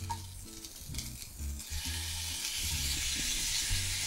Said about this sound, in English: we put in a little bit more oil, and we're going to add in and cook off our porohok